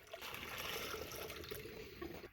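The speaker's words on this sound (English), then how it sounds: "we're going to go ahead and flush it with 1 gallon of hot water all the way down" Hot water poured from a gallon jug down a P-trap drain to flush out vinegar, a steady close trickling and gurgling flow running throughout with no break.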